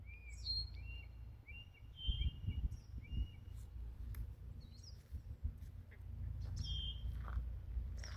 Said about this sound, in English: I can hear a hawk.